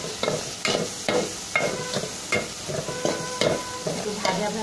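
Spice paste with salt and chili powder stirred in a frying pan, a rhythmic series of spatula scrapes over a soft sizzle, close and alone.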